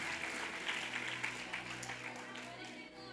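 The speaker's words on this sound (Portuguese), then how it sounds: "Palmas aí para quem trouxe Bíblia." A church congregation applauds at a worship service, a broad sustained patter of many clapping hands heard from across the room, with a low hum running underneath.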